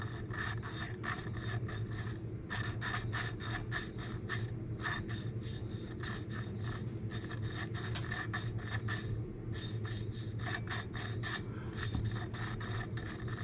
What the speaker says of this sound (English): Valve lapping tool on the cheap.